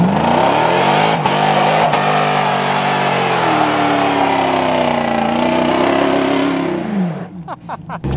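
A Hellcat-swapped Jeep Gladiator's supercharged engine roars loud and sustained at high revs during a burnout in Holly, Michigan, then drops away near the end into a few sharp pops.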